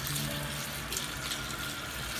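Hot tap water runs steadily into a sink while rice is rinsed, a broad, continuous splashing hiss that stays close and even throughout with no talking.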